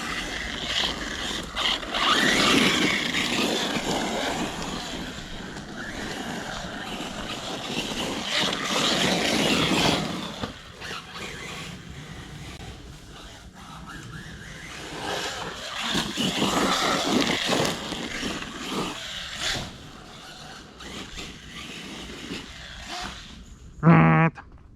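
A Turbo Mite nitro engine in a VS1 RC truggy revs and buzzes, rising and falling in throttle bursts as the small model drives, loud at times and fading farther off in between.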